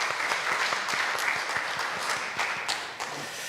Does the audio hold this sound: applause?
yes